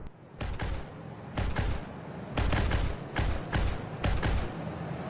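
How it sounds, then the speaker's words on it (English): Russian armoured personnel carrier firing on an American Bradley in combat, heard as repeated bursts of loud heavy gunfire in several clusters, with rumble and mechanical noise between bursts. "It opens fire and shoots directly at the American APC."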